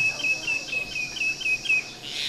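Birds calling in the Taman Negara rainforest canopy, a rapid series of thin high chirps repeating evenly over a faint background hum of insects.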